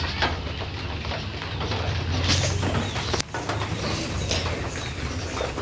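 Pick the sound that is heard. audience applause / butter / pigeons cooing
pigeons cooing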